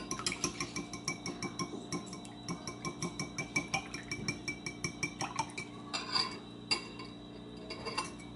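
Buttermilk pancake batter with melted butter stirred in a bowl, a steady run of soft clinks and scrapes of a utensil against the bowl at close range, with no talking.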